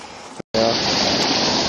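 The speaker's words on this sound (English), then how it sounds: "underground streams running here, I'm sure" Running stream water gives off a steady, close rushing hiss, broken by one very short dropout before it flows on evenly.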